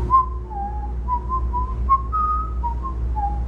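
A person whistles a short wavering tune of several sliding notes, clear and close, over a low background hum, with no one talking.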